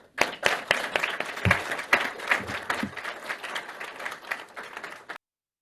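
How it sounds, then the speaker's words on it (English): A closing round of applause from the audience at a Washington panel on an Arctic research commission report, a modest patter of clapping with a few sharper claps that thins and stops abruptly. "give everyone one last round of applause"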